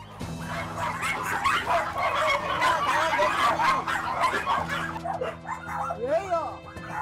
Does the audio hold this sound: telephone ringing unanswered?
no